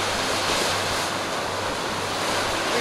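Ocean waves crashing against coastal rocks on the Newfoundland coast, a steady loud roar of surf with wind, continuous and close with no voices.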